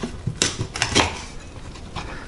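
A Vanax SC fillet knife chops through a fish's tail on a hard surface, a few sharp knocks and crunches close up, scattered over about two seconds.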